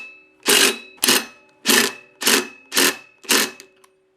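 DeWalt XR brushless impact wrench fires six short, loud bursts about half a second apart, each a sharp buzzing hammer with brief pauses between, working on a nut during small engine flywheel repair.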